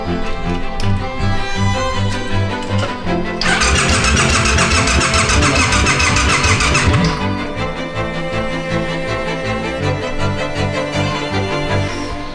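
A custom bobber motorcycle engine cranks with a loud starter squeal and then fires up, settling into a steady, loud running rumble that fills the rest of the clip.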